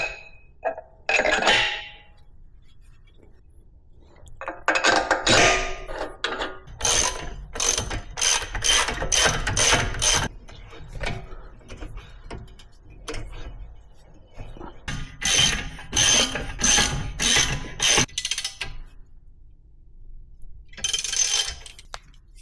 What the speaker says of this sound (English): we're going to torque down the caliper bolts to 104 foot-pounds.